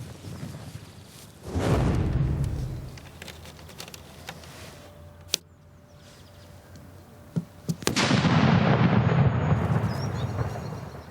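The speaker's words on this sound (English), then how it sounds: "the bang that comes off this, is going to be extraordinarily loud" Chemical explosion demonstration for a secondary school science lesson, with a loud boom that rolls into a long rumbling roar, a sharp crack midway, then a second powerful blast that dies away slowly, with no voices.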